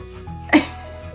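A dog stuck outside chewing a bone lets out one short, sharp whimper midway through an otherwise quiet moment.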